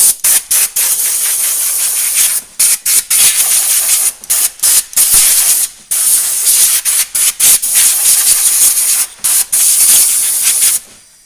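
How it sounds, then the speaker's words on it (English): Compressed air from an air compressor blasting in repeated loud hissing bursts with short gaps, during work on a 2003 Honda Accord power steering pump. "Then I'm just going to hit it with a compressor."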